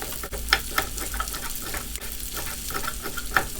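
Red chili dropped into a pan of chicken afritada with potatoes and carrots, a constant loud sizzle and frying crackle with scattered sharp pops and stirring clicks.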